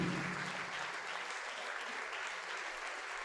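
A church congregation applauds during a worship service, a dense burst of clapping that starts loud and settles into steady, sustained applause with no voices on top.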